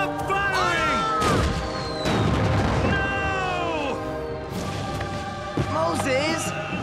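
Cartoon battle gunfire at Yorktown, with several sharp cracks and booms scattered through the scene amid whistling, shouted voices and dense battle noise.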